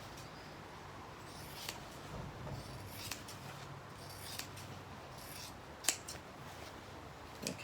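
Scissors snipping through a shirt seam, faint close-up crisp cuts and rustling fabric in an irregular sequence, with a few sharper snips standing out.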